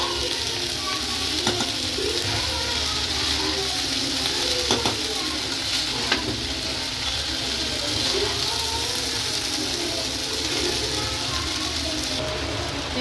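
Rice frying in a pan with green chilies and a steady, close sizzle that runs the whole time, with scattered stirring scrapes and small crackles.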